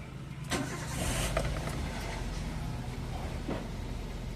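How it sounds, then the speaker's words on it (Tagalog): A Toyota Avanza with a check-engine fault and intermittent misfire cranks and catches, then settles into a steady close idle, recorded nearby with no talk. "Start ko na nga itong makina."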